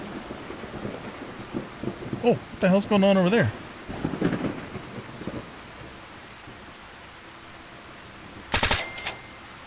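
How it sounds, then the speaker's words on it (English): Rain and thunder in the video game Fallout: Tale of Two Wastelands, a steady rain hiss with brief rumbling bursts and a loud crack near the end, while someone speaks briefly over it. "This rain is really loud"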